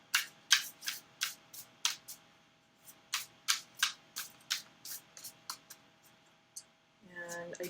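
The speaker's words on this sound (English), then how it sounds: "I do like to shuffle all 3 decks first before I start pulling the cards" Three tarot card decks being shuffled, a steady run of crisp riffling bursts close to the mic, followed at the end by a brief rustle of other handling noise.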